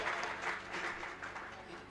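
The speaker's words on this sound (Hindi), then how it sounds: "तालियां हो जाए।" Audience applause breaks out at a live Shrimad Bhagavat Katha gathering in Bilaspur, Himachal Pradesh, during a wedding garland ceremony; a dense, steady wash of clapping continues for two seconds with voices mixed in beneath it.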